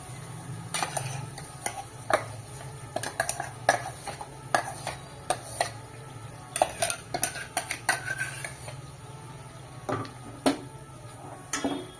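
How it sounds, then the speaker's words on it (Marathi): Ground masala paste sautéing in a pot for rajma, heard mostly as a run of clinks and scrapes from a spoon against metal over a low, soft sizzle, irregular and close. "आता आपण हे वाटण याच्यामध्ये परतून घेऊया"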